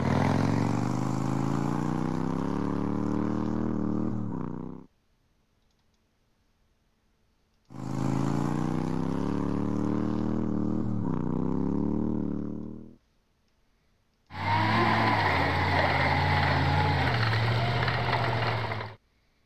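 Three separate bursts of roaring motorcycle engine noise from the video game Panzer Battles North Africa, each lasting several seconds with brief silences between, a droning motor sound with shifting pitch.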